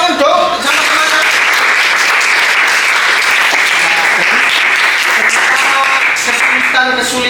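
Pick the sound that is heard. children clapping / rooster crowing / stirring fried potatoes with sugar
children clapping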